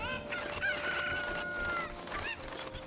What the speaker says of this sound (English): the chickens will fuck you up.